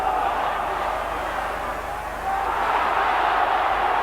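A football crowd at an Everton versus Liverpool match, a steady broad roar that rises slightly near the end.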